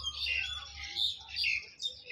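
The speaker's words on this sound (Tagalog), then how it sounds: "Ah, ibon no?" A bird sings nearby in clear, high chirps and whistled phrases, repeated in short bursts with brief gaps between them, over a faint low background hum.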